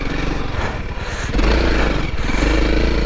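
A Honda CRF300L motorcycle engine runs steadily off-road, a loud close-up drone that surges louder midway as the rider powers on, with no talking.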